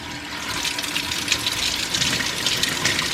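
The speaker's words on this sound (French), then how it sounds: "Ah débile, j'ai oublié de revisser l'arrivée d'eau là. Pour ça que ça fuit." Water sprays and hisses steadily from an unscrewed household water supply line, a loud, continuous close rushing with no speech.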